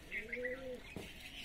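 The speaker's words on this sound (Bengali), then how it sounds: "এই আমার পায়রা ছাড়া হয়ে গেল" A single soft pigeon coo from Madrasi pigeons released at a pigeon-flying tournament in West Bengal, faint and brief, followed by a short muffled flutter.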